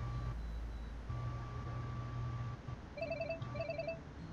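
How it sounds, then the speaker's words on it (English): A phone rings inside the video game Celeste, a repeating electronic trill of short bursts sounding twice toward the end over a steady hum of game background tones. "My phone's ringing."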